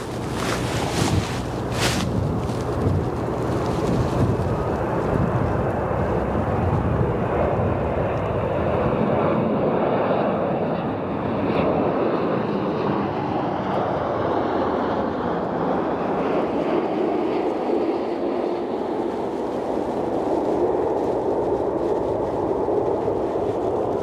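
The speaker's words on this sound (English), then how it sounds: "Our next arrival, United Airlines 787-9 Dreamliner from Amsterdam, airport code AMS." A United Airlines Boeing 787-9 Dreamliner arriving from Amsterdam at O'Hare airport gives a steady, loud jet roar whose pitch slowly shifts as it passes, with wind buffeting the microphone throughout.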